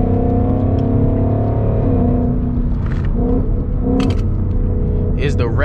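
A Ford Mustang GT is being driven, its engine giving a deep, steady rumble with a smooth humming drone throughout and slight shifts in pitch. A voice talks over the engine.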